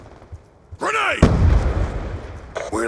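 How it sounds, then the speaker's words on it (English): A frag grenade goes off in Call of Duty Black Ops 2 on the Wii U: one heavy, close boom with a rumbling tail, with shouted voices just before and after it. "Grenade!"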